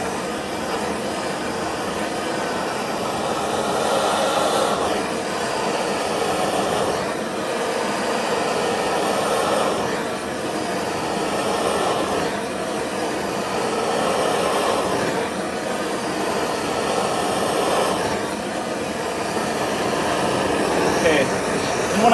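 A torch burns an axe handle all the way to the end: a loud, continuous roaring hiss that swells and eases in slow, regular sweeps, with a voice talking over it at times.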